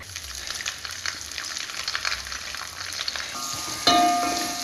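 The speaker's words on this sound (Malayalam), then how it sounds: "ചിക്കൻ വറുത്ത വെളിച്ചെണ്ണയിൽ സവാള വാട്ടുക." Sliced onions sauté in coconut oil left over from frying chicken, giving a steady close sizzle with scattered crackles and spatter, ending in a louder burst of hissing near the end.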